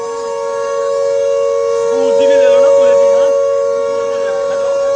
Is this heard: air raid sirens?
yes